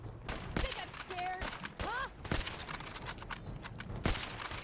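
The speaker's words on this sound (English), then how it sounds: "Listen to all those bolts cranking." Several Mosin Nagant bolt-action rifles in Fallout 4 cycle their bolts over and over amid scattered gunfire, making a busy run of sharp metallic clacks with a few brief whistling tones between them.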